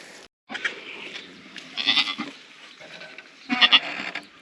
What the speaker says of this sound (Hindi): ये देखो, ये हमारी सबसे बड़ी बकरी है